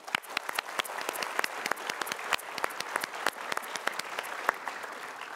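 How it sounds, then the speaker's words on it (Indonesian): Studio audience applauding on a motivational talk show, a dense stretch of crisp, fairly close hand claps that stays lively and even throughout. "Kita berikan tepuk tangan kembali."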